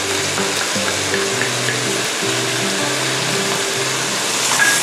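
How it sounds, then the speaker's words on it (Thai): Lotus stems and shrimp stir-fried in a hot pan, a loud steady sizzle with scraping and stirring of the spatula running throughout, no talking. "ทีนี้ก็ผัดให้เข้ากันค่ะ"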